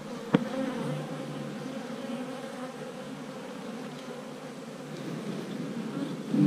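Honeybees hum steadily at an opened hive while a brood frame is lifted, a dense, even buzz holding for several seconds with a brief knock near the start.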